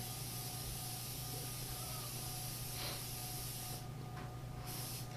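Cooking spray hisses onto a baking pan being greased, a faint close aerosol spray in a few short bursts over a quiet room hum, with no talking.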